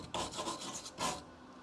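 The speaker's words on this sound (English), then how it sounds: "I'm just hitting this side with the wire brush to make sure there's no pinholes or anything." A wire brush scrubs a car frame rail during repair work, quiet rasping strokes at close range, two or three back-and-forth passes with a brief pause between, with no talking.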